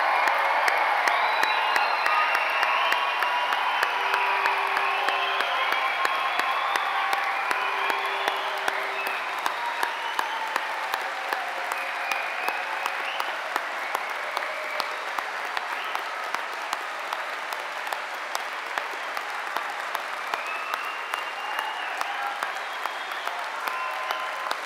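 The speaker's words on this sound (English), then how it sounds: "let's give them an amazing round of applause to celebrate" A large crowd at a London university degree ceremony applauds and cheers the graduates, a sustained, loud roll of clapping with scattered whoops and shouts carrying on for the full stretch.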